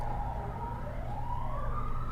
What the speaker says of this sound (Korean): 지금 저 밖에서 막 사이렌 소리가 들리는데